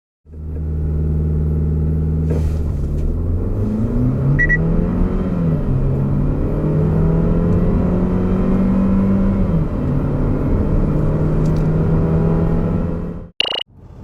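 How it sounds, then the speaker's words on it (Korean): A Ssangyong Korando 1.5T gasoline car accelerates hard, its engine droning loudly and rising in pitch through several gear changes, with a brief click near the end and no talking. "이와 같은 파워트레인을 기반으로 한 가속 성능을 알아볼까요?"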